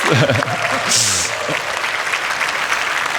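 A crowd applauds briefly after a speaker's voice, a burst of clapping and cheering at a moderate distance that tapers into a sustained rustling wash.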